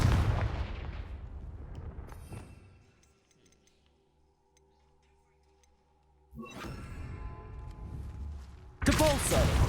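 Confringo fire spell blasts in Hogwarts Legacy, heard as two bursts of broadband impact noise, one near the start and another after a quiet gap, with a sharp bright crack at the very end.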